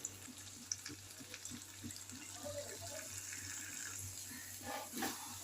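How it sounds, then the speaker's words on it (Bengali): A small splash of water is poured into a pan of potato, pointed gourd and egg bhujiya during cooking, heard as a soft trickle and sizzle beneath faint kitchen background noise. "দিয়ে দেবো সামান্য পরিমাণ জল"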